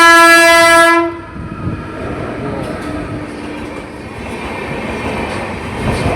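A passing train sounds a loud horn at a closed railway level crossing, the sustained blast ending after about a second and giving way to the steady rumble and clatter of the cars rolling past nearby.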